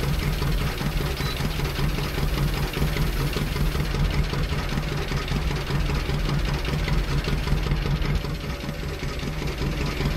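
A John Deere tractor engine idling in Farming Simulator 19 while grain unloads into an auger: a steady, continuous mid-to-low rumble with a faint knocking texture, loud and close, without talk.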